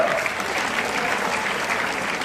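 A crowd claps steadily and densely at an indoor product presentation, a short, even burst of applause with no voices.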